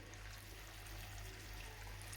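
Lukewarm water poured onto frozen boondi in a bowl, a steady, close hiss of liquid flow with no talk.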